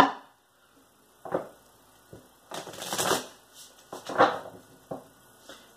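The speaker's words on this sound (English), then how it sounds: "I'm getting two more shuffles here" Tarot cards being shuffled by hand, several separate riffling bursts of crisp paper flutter, close and fairly loud, with quiet gaps between them and no talking.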